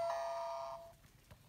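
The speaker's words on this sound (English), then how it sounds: "That's the doorbell, no beep beep." A toy remote plays a doorbell chime: a single clear electronic ding-dong tone held for under a second, then fading, with a faint noise at the end; close and fairly loud in a quiet room.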